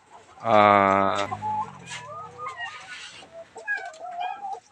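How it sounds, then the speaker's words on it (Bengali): Chickens on a small poultry farm with bamboo cages for layer hens give a loud, drawn-out squawk near the start. Softer clucks and chirps follow over the rest of the clip. "আপনি এখানে যে পোলট্রি ফার্ম করছেন, এখানে আপনার কতটি মুরগি আছে?"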